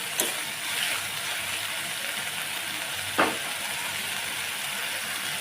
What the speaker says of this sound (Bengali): টমেটুনটা দিয়ে একটু ভালো করে কষিয়ে নিই